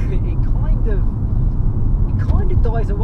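A Mk7 VW Golf R with a four-cylinder engine pulls hard and loud from inside the cabin, a low rumbling drone under a voice talking throughout.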